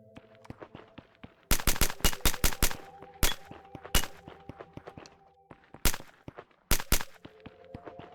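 Sharp bursts of gunfire in the video game One Million Years Bugs, clustered rapid shots then scattered single cracks over a quiet electronic hum, loud and close.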